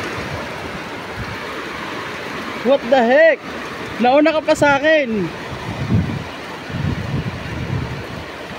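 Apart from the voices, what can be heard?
heavy rain pouring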